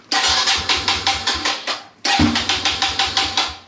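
A Kawasaki KLX140RF dirt bike is cranked twice, each attempt a loud, close, rhythmic chugging of the small engine turning over in quick pulses, with a short pause between the two runs.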